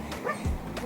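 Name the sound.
dog barking by the river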